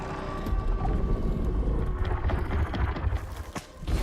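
A mammoth creature in Horizon Forbidden West lumbers close by with heavy, rhythmic clopping steps and clanking mechanical whirs, loud and continuous over a dense game soundscape.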